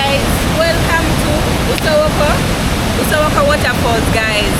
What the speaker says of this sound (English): I don't know if you guys are hearing me because the waterfalls